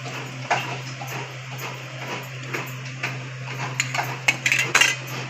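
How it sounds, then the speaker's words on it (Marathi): Fried dal vada being lifted out of the pan into a vessel, with scattered metallic clinks and scrapes of a utensil against cookware over a low steady hum, growing busier toward the end. "आपण एका भांड्यात काढून घेऊ"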